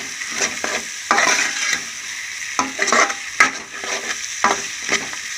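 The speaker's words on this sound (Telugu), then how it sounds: "ఇంకా మంచిగా ఫ్రై అయ్యిందన్నమాట కారం వేసుకున్నాం కదా మనకి దాంతో పాటు బాగా రోస్ట్ అవుతుంది" Prawns roasting with chili powder in a pan sizzle loudly while a spatula stirs them in repeated scraping bursts, close and without talk.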